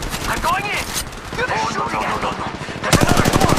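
Rapid automatic weapon fire in Apex Legends Mobile, loud bursts of rattling shots, with a voice talking over the first part before a sharp, sustained volley at the end.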